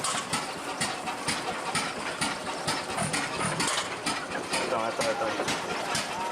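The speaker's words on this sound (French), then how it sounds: "Vous savez que Renault en 1936 avait fait un moteur, ce petit tracteur" A small 1936 Renault tractor engine runs in the countryside, chugging and clattering with a steady mechanical rhythm at close range.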